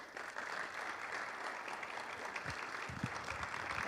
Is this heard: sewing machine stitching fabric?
no